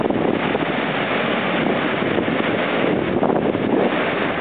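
Ocean waves roll onto a beach in the aftermath of a storm, a loud, continuous roar of surf mixed with heavy wind buffeting the microphone, with no voices.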